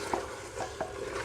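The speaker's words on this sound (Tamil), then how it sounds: "தயிர் ஆட் பண்ணி நல்லா மிக்ஸ் பண்ணிக்கோங்க." Mutton is stirred with yogurt in a pot, giving soft wet squelches and scrapes at an uneven rhythm, close and fairly quiet, with no voices.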